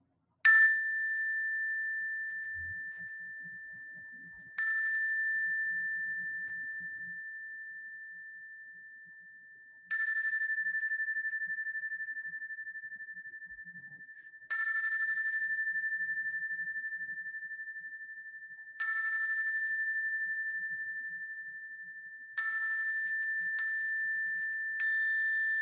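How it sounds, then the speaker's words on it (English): A bell at an interfaith peace gathering marking the anniversary of Nagasaki is struck six times at spaced intervals. Each strike rings out clearly with a bright sustained tone that slowly decays, with faint murmurs between strikes. "then we'll ring the bell for that way to conclude"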